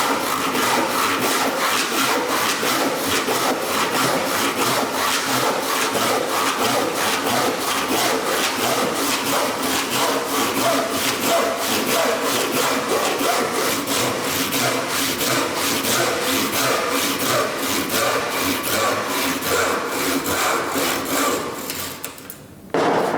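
A hand saw cuts through softwood in steady, rapid back-and-forth strokes, close and loud, with a regular rasping rhythm that runs continuously before stopping near the end.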